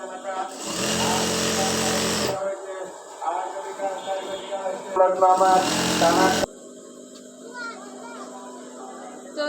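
A sewing machine double-stitches a petticoat seam, running in two loud whirring bursts with a quieter stretch between, while a person talks throughout.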